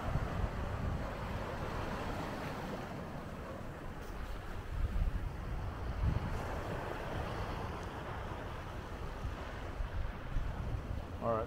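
Sea water washes in over rocks at Corona Del Mar in a continuous rushing surge, heavy with wind buffeting the microphone.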